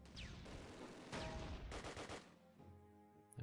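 Scattered gunfire in Close Combat: Wacht Am Rhein, a World War II tactics game, with shots aimed at a vehicle. The bursts are faint and distant and crackle intermittently, followed by a lower rumble near the end.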